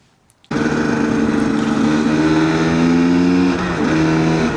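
A GPX TSE 300 motorcycle fitted with an XTNG Gen 3 Plus smart carburettor starts up after a brief quiet moment, then rides off with a loud, steady engine note that shifts pitch as it pulls away.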